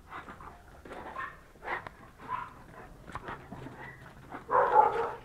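A Rottweiler whimpers and yips in short bursts, ending with a louder, sharper bark-like cry close by.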